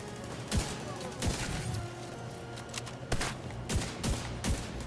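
Automated turret in The Division 2 firing a string of sharp, punchy shots at an uneven pace, each burst loud and close over a constant hum of game ambience and battle noise.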